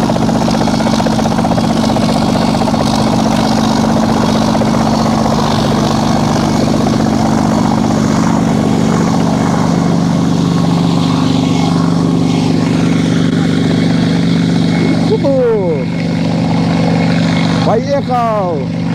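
A homemade five-seat helicopter's engine roars loudly and continuously as the machine begins to move, with voices talking over the steady drone.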